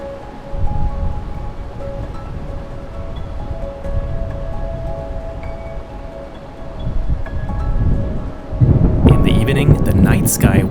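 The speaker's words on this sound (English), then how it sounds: "The night sky was ablaze with lightning strokes." A night thunderstorm in the Austrian mountains: long rolling thunder over steady rain and wind, with a heavier, louder burst of rain and thunder toward the end.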